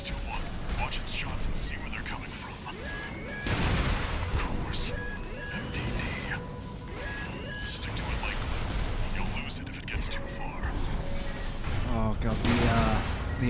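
Bombs exploding in the mech combat video game Armored Core VI burst over a constant backdrop of weapon fire and machinery, with heavy blasts near four seconds and again near the end, and voices talking throughout.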